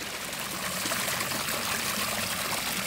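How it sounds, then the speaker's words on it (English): Water trickling steadily over the lip of a leaking garden waterfall after the liner settled, a constant close splashing rush with no talk. "there was definitely some water going over that edge"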